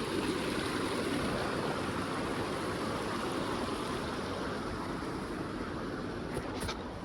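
Creek water flowing steadily down a mountain chute on an off-trail route near Mt Whitney, a broad continuous rush heard close and alone, with no voices.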